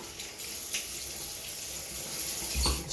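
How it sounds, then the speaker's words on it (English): Water is poured and splashed over a freshly shaved head, a short stretch of running, trickling water heard close and at moderate volume. "Some water over it."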